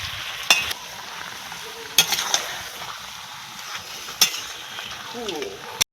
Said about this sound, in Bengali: এটা ভালো করে নেড়ে ঢাকা লাগিয়ে দিচ্ছি।